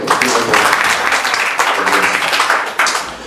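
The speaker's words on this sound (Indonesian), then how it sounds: "Boleh tepuk tangan sekali lagi dong." A church congregation clapping during Sunday worship, dense close applause that swells in bursts and tapers off at the end.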